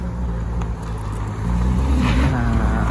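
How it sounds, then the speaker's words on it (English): Ferrari 488 Pista doing a burnout at a Ferrari dealership, a rising roar of engine and spinning tyres that swells louder in the second half, heard from nearby over outdoor background noise. "oh, it's a nice burnout"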